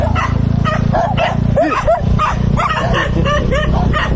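Several dogs bark and yip in quick, overlapping bursts close by on a rough road, over a constant low engine rumble.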